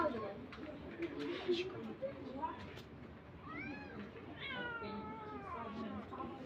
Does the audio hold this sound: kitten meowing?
yes